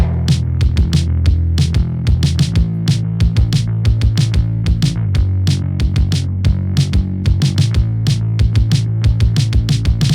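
Stripped-down post-punk new wave beat verse with only the bass left, a steady driving line pulsing under crisp, regular drum hits, loud and close with no voices.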